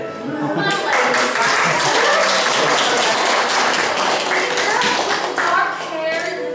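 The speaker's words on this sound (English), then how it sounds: "Well, this is her clapping." Audience applause at an amateur stage production of A Midsummer Night's Dream at a small community playhouse, dense steady clapping from many hands filling the room with a few voices mixed in.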